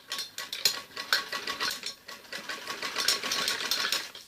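A sewing machine stitches piping along the edge of a child's frock, giving a quick, rattling, clicking run of needle strokes, close and fairly steady with slight uneven pulses.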